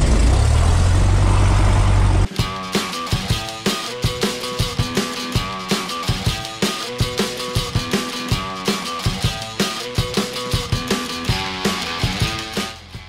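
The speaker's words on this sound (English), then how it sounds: "I'm commencing engine start!" A Cessna Skyhawk's propeller engine starts: a loud rushing sound cuts off abruptly, then the engine fires into a rapid, steady train of sharp pulses and runs on evenly, close and dominant.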